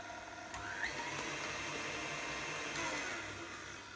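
A stand mixer's paddle turns Victoria sponge batter with eggs, milk and vanilla, producing a steady, even motor whir with faint rhythmic churning, constant and unbroken, with no voices.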